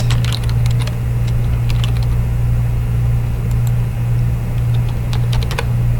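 Computer keyboard typing as an address is entered into a 1099 tax form, with rapid, irregular clicks over a steady low electrical hum throughout.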